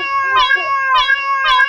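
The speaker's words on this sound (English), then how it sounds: "Cat again." Three drawn-out, tonal meows in a row, loud and close, each rising then falling, evenly spaced over a second and a half.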